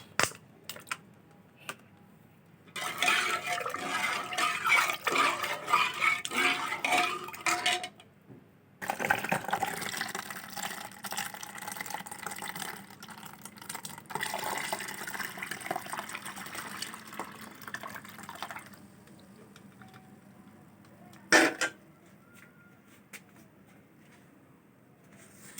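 Warm milk, cooled until just comfortable to the touch, is poured into store-bought yogurt to set homemade curd. Two long stretches of soft, steady liquid pouring with a short break between them, then a lone clink near the end.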